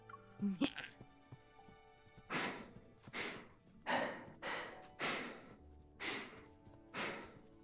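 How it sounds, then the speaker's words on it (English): A video game character running breathes heavily and rhythmically, with about seven loud breathy huffs spaced roughly every half second and a short gasp before them, close up with no other voices. "man, boy is breathing a lot"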